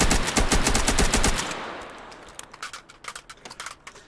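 Rapid automatic gunfire rattles out in the VR shooter H3VR, a dense close burst that stops abruptly and gives way to a scattering of quieter, separate shots.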